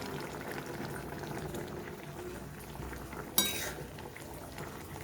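A vegetarian shukto curry with green chilli and mustard-poppy paste bubbles softly in a pan, a low, even simmer with one sharp metal clink partway through.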